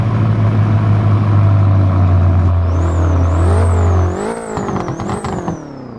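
A BMW M5 in a video game hums at idle with a steady low drone, then the engine note revs and rises in wavering sweeps, loud and close with no talk.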